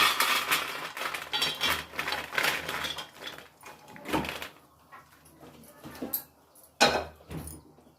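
Roasted dry dates being moved from a pan onto a plate, with irregular close scraping, clinking and rattling bursts of cookware separated by quieter pauses.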